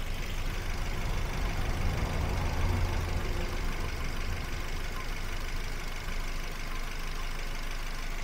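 A 2008 Daihatsu Terios TX manual idles with a steady, low, even engine hum that holds constant throughout, close to the car and with no voices.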